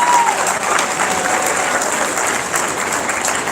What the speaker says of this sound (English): another round of applause for the ladies and gentlemen.